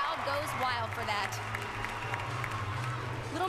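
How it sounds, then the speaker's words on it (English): A gymnastics arena crowd cheering and applauding a gymnast's moonwalk on the balance beam at a college meet, a steady roar of claps and shouts with a commentator talking over it throughout. "you can hear the crowd goes wild for that"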